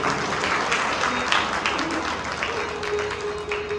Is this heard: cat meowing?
no